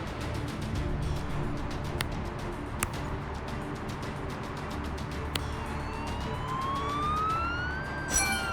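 A wailing ambulance siren from the rescue video game Global Rescue, a steady electronic tone rising and falling over a dense background of game noise, with sharp clicks scattered through it and the siren growing louder and sweeping upward toward the end.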